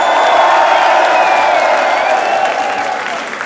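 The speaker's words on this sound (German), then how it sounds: "Bitte Applaus für die erste Runde von den beiden." A crowd applauding and cheering after the first round of a surprise a cappella rap battle, loud dense clapping with some whoops that tapers off slightly toward the end.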